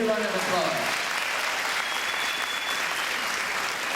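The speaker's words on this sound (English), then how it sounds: "Let's give the judge a real round of applause." A room full of people claps steadily for several seconds at an awards-style gathering, with a few voices audible at the start beneath the applause.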